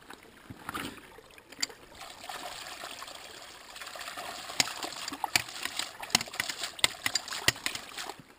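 Water trickles and gurgles through the tube of a hydraulic ram pump being primed outdoors, a soft continuous flow broken by scattered faint splashy ticks, fairly quiet throughout.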